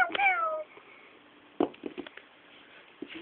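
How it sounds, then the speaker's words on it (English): A female cat gives one clear, drawn-out meow up close, followed by faint rustling and small soft sounds. "Peppa, I know you're a female cat now"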